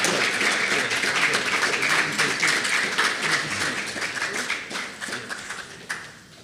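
Audience at a project launch event in Saint Kitts and Nevis giving a round of applause, fairly dense clapping that gradually thins and fades toward the end, with a few scattered late claps.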